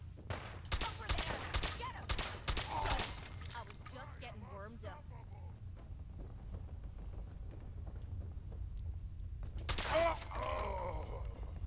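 Rapid bursts of gunfire in Fallout 4, clustered shots at the start and again near the end, with a voice speaking in the middle section and a low steady background drone throughout.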